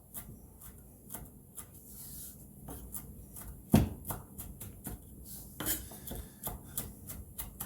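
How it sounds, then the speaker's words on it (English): A knife chops fresh rosemary leaves on a board in a home kitchen, a run of quick, close, crisp cuts in an uneven rhythm, with one heavier thunk partway through. "Just going to strip these leaves off of here and chop this up"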